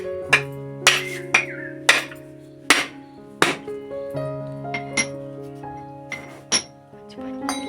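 A Konkan coconut is struck open with a sickle in a series of sharp, ringing knocks, about ten blows at uneven intervals, close by.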